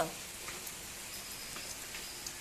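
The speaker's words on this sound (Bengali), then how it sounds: "এদিকে দেখো কি বৃষ্টি নেমেছে" Rain falling outside a home on a dark, rainy day, heard as a soft, steady hiss with scattered drip ticks, faint and continuous without any voices.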